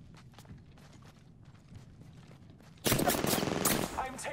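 Rapid automatic gunfire in the battle royale game Apex Legends, quiet footsteps and faint shots first, then a loud sustained burst of close fire.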